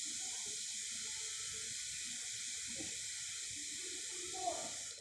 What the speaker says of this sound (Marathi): मी आता पाणी ओतते त्याच्यात